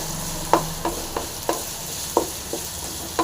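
Ginger, garlic and green chili paste fries in hot oil under a steady sizzle, punctuated by regular sharp scrapes and taps of a spatula stirring against the pan.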